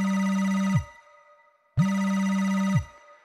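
A phone ringtone sounds twice, each a loud, steady electronic ring lasting about a second with a short silent gap between, close and alone with no talk.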